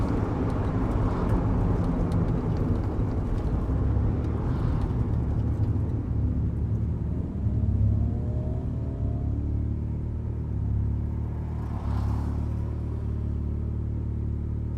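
Turbocharged 280 hp Mazda MX-5 Miata running 25 psi boost, driving on a road with the window open, giving a continuous loud engine and road rumble with wind noise and occasional rises in revs.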